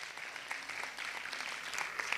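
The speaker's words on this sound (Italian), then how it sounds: "quindi facciamole un grande applauso." Fairly quiet applause rises from the audience at an international school festival and award evening in Ischia, a brief, steady spell of many hands clapping.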